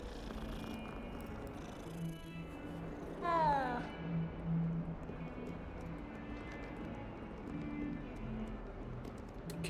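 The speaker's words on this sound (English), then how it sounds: "Little kitty cat." A single short meow from a cat in the video game Hogwarts Legacy rises briefly over a steady hum of game ambience and background noise.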